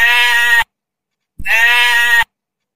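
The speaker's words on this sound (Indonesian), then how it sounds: "Itu suara kambing." A goat bleats twice, each a loud, sustained, quavering cry of about half a second to a second, separated by clean silence and heard alone without talk.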